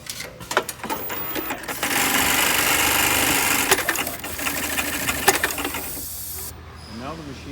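Close-up sewing machine running steadily for several seconds to stitch down a fabric pleat, a dense whirring hum with mechanical clicks before and after, then stopping, with no talk.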